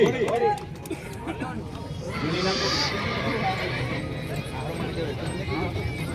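A horse whinnies near the start amid a busy outdoor crowd at a horse race during a fair, with steady chatter and babble continuing throughout.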